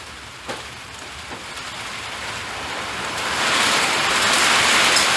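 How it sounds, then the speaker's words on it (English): A rainstorm pounds on a metal roof in a dense, hissing roar that swells louder toward the end, steady and enveloping with no voices. "Man, it's storming outside."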